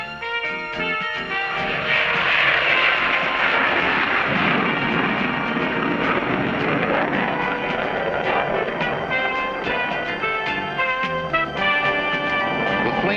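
An F-14 fighter jet roars on the runway with afterburners lit, a loud, sustained broadband rumble and hiss that swells and holds without break.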